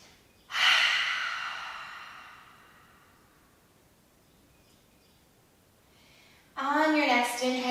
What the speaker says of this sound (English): Take a cleansing breath.